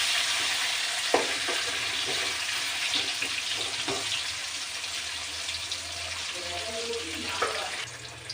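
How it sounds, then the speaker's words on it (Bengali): Potatoes sizzle steadily in hot oil tempered with whole garam masala, with a few clinks and stirring knocks from a utensil, near and moderately loud. "গরম মশলা ফোড়ন দিয়ে আলু ভাজছি"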